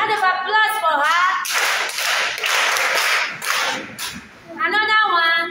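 Applause for a birthday celebrant bursts out at a party gathering, a few seconds of clapping from a group, with talking heard just before and after.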